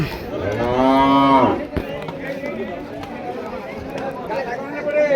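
A loud, drawn-out cow moo rises in the first second and a half, followed by a busy background of voices and livestock noise.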